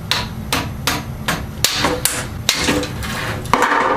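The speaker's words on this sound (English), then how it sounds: "You can use screwdriver, knife, I mean, whichever, you know, and put a few hits, few gentle hits" Gentle hits of a screwdriver or knife tapping to pry open a game console casing, about nine sharp close taps at an irregular, unhurried rhythm with no talk.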